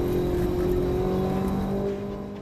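A Ferrari 458 Italia engine hums and whirs steadily as the car is driven hard through corners, a sustained tonal drone with no one talking.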